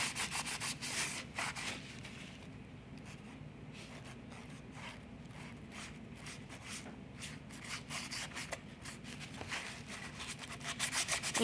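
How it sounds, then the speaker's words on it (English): Paint is rubbed into paper for home decor, making a steady close scratchy rubbing and scuffing with repeated back-and-forth strokes throughout. "you just come over it and you rub it in and you get the desired darkness you want"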